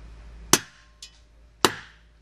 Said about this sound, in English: you use a screwdriver and a hammer to knock it loose